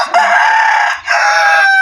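Pet chickens being fed corn mixed with rice; a rooster crows loudly and close, two long strained calls with a short break between.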